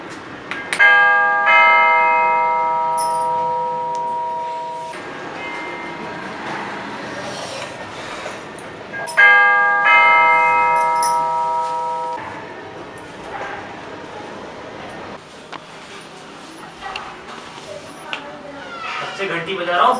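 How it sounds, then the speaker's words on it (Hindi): A two-tone doorbell chime rings clearly twice, several seconds apart, each ring lingering and fading, with voices and room noise in between. "घंटी बजा रहा हूँ"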